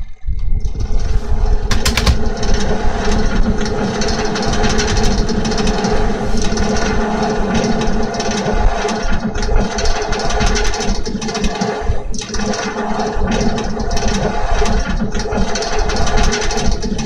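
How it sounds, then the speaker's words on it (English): A westbound subway train departs a station toward Richmond Avenue, a loud steady rumble and mechanical drone building as it pulls away, with no voices. "Please hold on, this train is departing."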